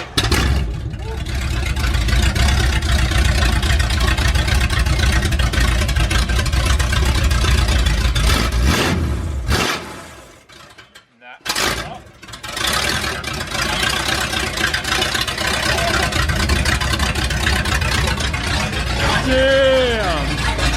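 A Ford 460 V8 in a 1967 F250 prerunner runs loud and close, a deep continuous rumble that drops out briefly midway then returns, with voices talking over it.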